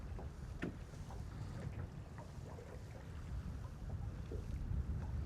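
Gusty wind buffets the microphone on a lake during a cold, windy winter catfishing trip by boat, a constant low rumble that swells and eases with occasional faint knocks, no talking.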